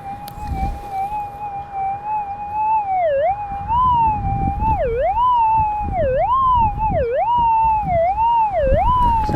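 Metal detector signal tone swelling and dipping as the coil sweeps over a gold target in California goldfield ground, a loud continuous warbling whine with repeated pitch dips and rising intensity, no talking.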